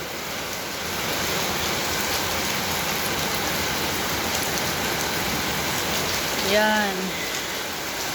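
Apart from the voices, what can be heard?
heavy rain falling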